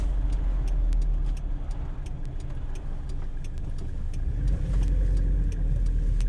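A 1991 Toyota Hilux, right-hand drive, carries on a steady, even engine drone while driving, with faint rhythmic ticking and interior rumble throughout and no speech.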